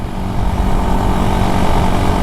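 A damaged Rusi Raider 150 motorcycle with a broken piston runs loud and close, its engine a rough, uneven rumble that churns steadily for a couple of seconds without any voices.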